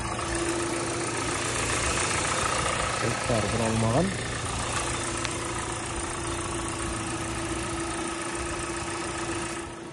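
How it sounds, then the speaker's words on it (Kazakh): A 2015 Hyundai Sonata LF with a 2.0-litre petrol engine idles steadily after a fresh start, a smooth low hum running throughout while someone talks briefly over it. "Мотор жақсы жұмыс істеп тұр."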